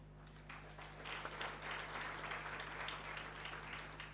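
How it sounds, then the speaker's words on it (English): Conference audience at a capital markets event clapping for an invited association chairman, a faint, steady patter of applause over a low electrical hum, building slightly and sustained for several seconds. "Now our clapping has really standardized."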